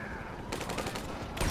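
Grand Theft Auto V gunfire comes in dense bursts of rapid shots, steady through the clip, with a louder flurry near the end.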